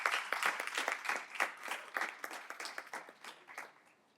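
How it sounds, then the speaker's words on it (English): Applause at a closing keynote of a food law student leadership summit, moderate and fairly close, with distinct individual claps in an uneven patter that slowly thins and tapers off. "give yourselves a big round of applause for sticking it out"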